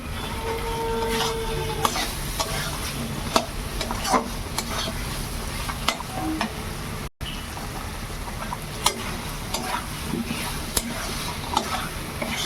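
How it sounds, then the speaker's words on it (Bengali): Spice paste with chili fries in oil as a utensil stirs it, a continuous sizzle broken by repeated scraping strokes and sharp clicks against the pan, close and steady with no talk. "এবার আমার মশলা কষানোটা হয়ে গেছে"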